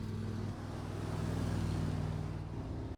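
A car roars in a chase scene, engine noise loud and sustained with a deep rumble before cutting off abruptly at the end.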